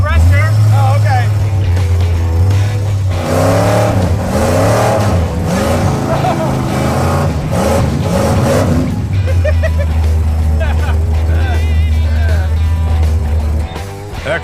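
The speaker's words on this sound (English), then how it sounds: "That car runs way better." An old drag race car's engine drones loud and close while driving, a deep steady roar that rises in pitch as it accelerates, with voices talking over it part of the time.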